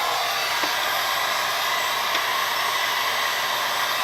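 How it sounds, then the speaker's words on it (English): A heat gun turned up to 1200 degrees on its high setting blows a loud, steady rush of hot air close by, a continuous fan whoosh that holds unchanged throughout, used to warm a circuit board. "I just power up the heat gun, turn it up to 1200 degrees, as high as it goes,"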